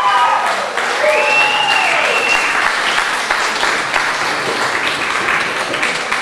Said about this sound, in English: can you give a round of applause for the presenters?